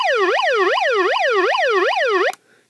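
A shrill electronic siren from a 1989 Hess toy fire truck bank wails up and down in quick repeating cycles, loud and close, then cuts off abruptly.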